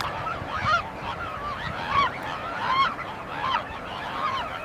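Barnacle geese call from a nesting colony, a series of repeated nasal honks and yelps arriving every second or so at moderate distance over a low background murmur of the flock.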